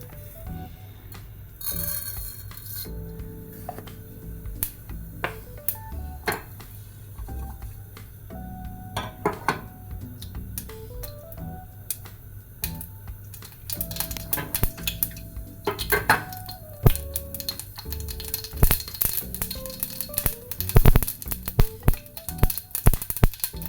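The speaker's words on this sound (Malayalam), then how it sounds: "കടുക് പൊട്ടി കഴിഞ്ഞു" Rapid, irregular crackling and popping of mustard seeds spattering in hot oil, with scattered metallic clinks from a pan; no voices.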